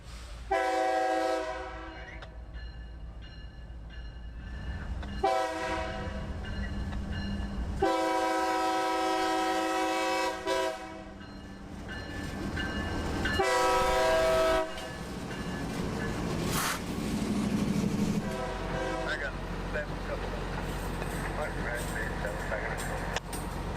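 A CSX heritage locomotive, ACL-liveried unit 1871, sounds several long, loud horn blasts between stretches of rumbling engine and rolling railcars nearby, with people talking over parts of it.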